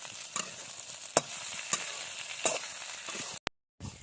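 Stuffed okra fries in a pan over a wood-fired village stove, giving a soft continuous sizzle with a few sharp crackles and pops, and a brief gap of silence near the end.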